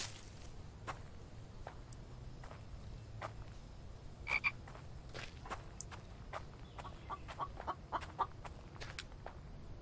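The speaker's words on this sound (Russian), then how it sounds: "Опа, курочка." Chicken clucking in the online survival video game The Infected, sparse short clucks and clicks scattered over a low ambient hum, with soft game footsteps and no talk.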